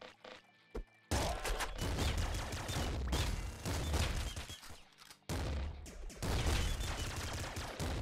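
Gunfire from a flak cannon in the video game Nuclear Throne bursts in dense, loud volleys, with short gaps of near silence between the stretches of rapid shots.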